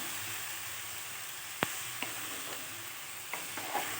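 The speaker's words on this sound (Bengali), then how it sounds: "কপিটাও ওই ফোড়নের মধ্যে দিয়ে দিলাম, দিয়ে ভালো করে নেড়ে চেড়ে মিশিয়ে নেব।" Cabbage frying in a tempering of cumin, dried chilli and bay leaves gives a soft, steady sizzle, punctuated by one sharp spatula knock and a few lighter scrapes, fairly quiet with no speech.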